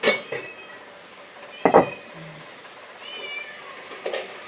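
A cat meows in a few short calls indoors, with a louder cry around the middle and fainter mews near the start and end, over quiet room noise with faint clinks in a kitchen.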